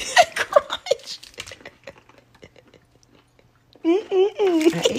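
A bite into a crunchy ginger snap bologna sandwich gives several close, crisp chewing crunches, with people talking and laughing excitedly around it.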